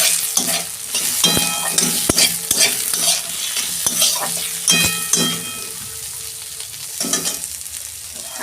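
Tomatoes stirred into frying onions and five-spice tempering in oil for a Bengali fish curry: a spoon scrapes and knocks against the pan in an irregular rhythm over a steady close sizzle, with no one talking.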